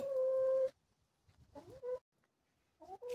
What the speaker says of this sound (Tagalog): Tingnan nyo, guys. Mga manok.